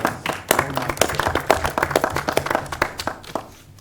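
Audience members at a Bethany city council meeting applaud, a fairly loud patter of many hands clapping irregularly and overlapping, tapering off near the end.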